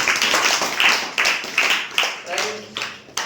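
Students at a Ramayana rapid-fire quiz clap for a correct answer, a burst of quick, close hand claps in uneven waves that fades out while a voice starts talking over the end.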